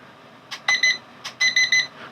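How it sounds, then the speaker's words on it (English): Two sets of short electronic beeps, a pair then a triple, each preceded by a soft click, from a Makerfire Armor Blue Bee 2 drone remote controller's speed button, close and clear against a quiet background. "there's 3 different speeds and 3 different beeps."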